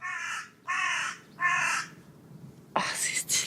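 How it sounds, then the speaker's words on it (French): Crows in a cemetery give three loud, hoarse caws at steady spacing, then a harsher call with a rasping onset near the end, over faint background noise. "C'est vraiment genre la tombe des corbeaux."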